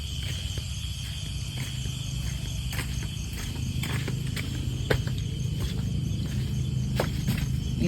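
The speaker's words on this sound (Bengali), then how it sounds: "দেখো কিরম ঝিঝি পোকা ডাকছে" Crickets chirp steadily at night around a house deep in a dark forest, a dense continuous trill with sharper clicks and small knocks nearby.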